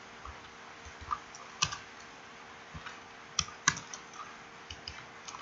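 Someone types code on a computer keyboard with scattered, irregular key clicks, a few sharper taps standing out, close and fairly quiet with no talk.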